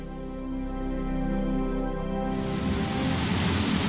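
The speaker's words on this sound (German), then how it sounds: "Draußen regnet es wie verrückt, es donnert, es blitzt und es stürmt." Heavy rain pours outside during a thunderstorm with wind, a steady rushing hiss that swells much louder and denser halfway through, with no talk.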